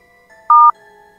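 One short, loud telephone keypad tone sounds as a number is dialed, a single clean beep over a quiet line hum, with no talking.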